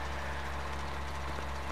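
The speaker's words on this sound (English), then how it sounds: "Start the old bus up." An old bus engine in Farming Simulator 17 runs with a steady, low, rumbling drone, close and unbroken through the short moment, with no voices.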